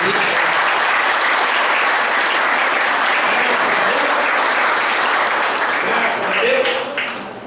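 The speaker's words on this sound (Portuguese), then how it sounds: "Dê uma salva de palmas para ele." Church congregation breaking into sustained applause, dense loud clapping from a large crowd that holds steady, then swells briefly near the end before tapering off.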